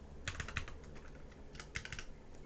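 Keystrokes on a computer keyboard come in two short bursts of quick, fairly faint typing, with a pause between them and no talking.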